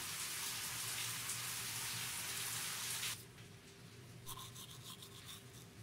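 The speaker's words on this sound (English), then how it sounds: "Does not look like heavy rain to me" Steady hissing rain fills the scene in Life is Strange, a dense wash of downpour that cuts off abruptly partway, leaving quieter patter and faint tapping behind.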